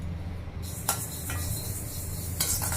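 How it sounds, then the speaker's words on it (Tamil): About 50 grams of mustard seeds dry-roasting in a pan give a few sharp, scattered pops and ticks over a low, steady hiss at close range. "50 கிராம் கடுகும் பொரிஞ்சு வருது பாருங்கள்."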